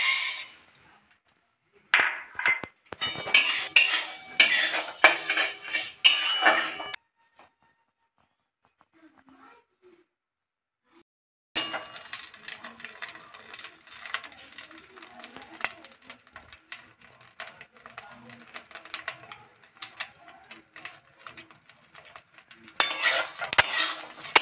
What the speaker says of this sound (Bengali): আমি সাবুদানা শুকনো কড়াইতেই ভাজবো, কোনো তেলে ভাজবো না